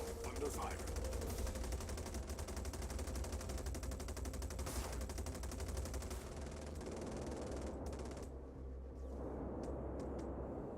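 Rapid automatic gunfire rattles loudly and continuously in the space game Star Citizen, a dense sustained barrage with little pause before thinning near the end.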